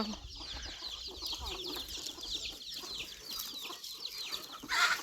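Chickens cluck and peck while feeding outdoors at a Thai rice-field farm where ducks and chickens are kept, soft irregular clucks over a busy background with a brief louder burst near the end.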